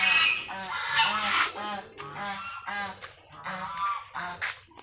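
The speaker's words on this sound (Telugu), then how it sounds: "హంసల దగ్గర పోతే అవి పొడవనీకి వస్తాయి." Swans honk repeatedly in loud, close, overlapping nasal calls, a rapid series of calls with brief gaps, alone without talk.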